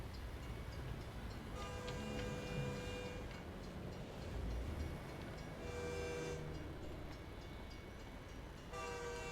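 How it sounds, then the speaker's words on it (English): Train in American Truck Simulator rumbling past with repeated horn blasts sounding over the rolling rail noise, moderately distant, with no talking. "I hear a train."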